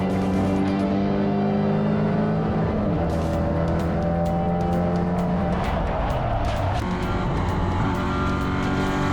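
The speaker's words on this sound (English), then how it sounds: "The number 20 of Fox and the number 14 of Carpenter coming together as they approached the very fast Hayshed section of the track" Porsche 944 race cars at Phillip Island's fast Hayshed section, several engines droning and shifting pitch at close range, with tyre squeal and a scrubbing skid as cars slide onto grass runoff.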